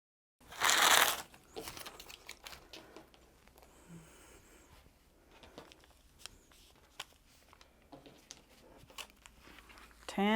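Wool fabric for a quilt being cut, a short loud crisp burst near the start followed by quieter scattered snips and handling noises, close by.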